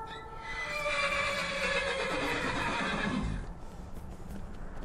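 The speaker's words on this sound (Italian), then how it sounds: "Noi siamo con i cavalli di nuovo all'attacco!" A horse in the video game Skyrim gives a long, loud whinny that rises and falls for about three seconds, then trails off into quieter game ambience, with no voices over it.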